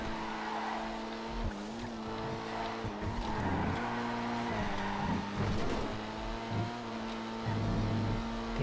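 Cars racing in GTA FiveM, tuner-class cars from the Tuners update, with engines revving through gear shifts, squealing tires and skids, a continuous loud roar of several cars close by.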